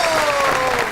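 A television comedy show audience claps in a brief, dense burst of applause.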